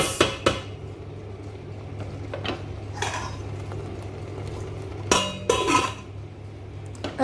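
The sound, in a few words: putting the lid on a cooking pot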